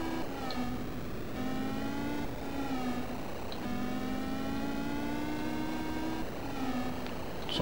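Motorcycle engine in the 1985 Master System game Hang-On, a synthesized tonal whine that climbs in pitch, drops at each gear shift and climbs again, steady and close with no talk.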